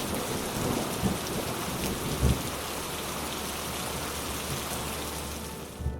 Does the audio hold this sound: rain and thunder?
yes